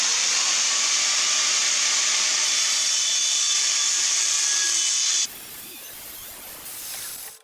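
A steel bed frame being cut into front bumper brackets gives off a loud, close, continuous high-pitched cutting whine for about five seconds, then stops sharply, followed by quieter scraping and handling noise.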